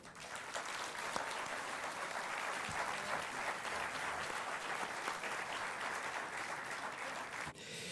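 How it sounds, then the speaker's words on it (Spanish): A seminar room full of people applauds steadily for several seconds, a dense, even clatter of clapping that stops abruptly at the end. "quisiera agradecer y reiterar un aplauso más para Hilario, para Claudia y para Paula."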